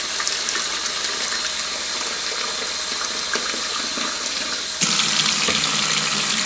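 Tap water runs steadily into a container to make a brine for pork chops, a little under a quart. The stream is close and continuous, with a brief, louder gush near the end.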